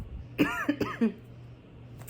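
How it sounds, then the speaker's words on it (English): A few dry, hacking coughs close to the mic, three short bursts in quick succession, then quiet room hiss. "I still have the nagging cough, and it's just like a dry cough."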